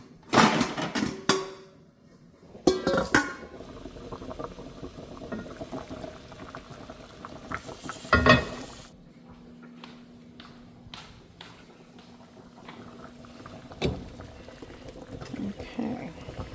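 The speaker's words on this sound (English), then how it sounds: "I'm going to offset the lid and just come up to a boil and let it cook" Chicken simmering in a pot with the lid offset to make broth, a faint steady bubbling punctuated by a few clangs of lid and pot, with occasional quiet talk.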